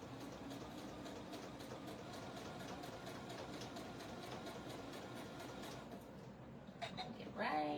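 A sewing machine stitches a quilt seam on curved Dresden-style wedge blades, a steady mechanical whir with rapid needle ticks running for several seconds, then stopping, followed by a few brief handling clicks and rustles near the end.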